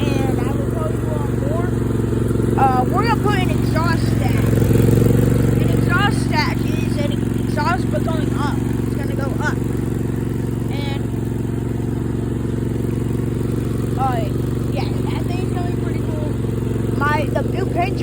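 Ride-on lawn mower being driven, a steady droning engine hum throughout, with a person talking over it.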